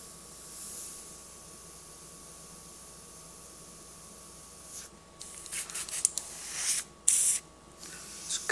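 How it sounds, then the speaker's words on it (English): A black and grey airbrush sprays paint onto a saddlebag: a faint hiss at first, then a run of short, sharp spray bursts, close and uneven. "color is not spraying nearly as well as it normally does."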